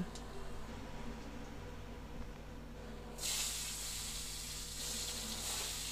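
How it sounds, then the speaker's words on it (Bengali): Panch phoron spices and dried red chillies dropped into hot oil in a wok, a soft background hiss that suddenly swells into a steady, bright crackling sizzle which continues to the end, heard close. "তেল গরম করে তাতে 5 ফোড়ন আর শুকনো লঙ্কা ফোড়ন দিয়ে আমি টমেটোগুলো দিয়ে দেব"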